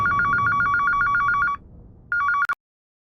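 A telephone bell trills in rapid pulses for about a second and a half, stops, and then rings briefly again before cutting off with a click. It is close and clear, with no voices.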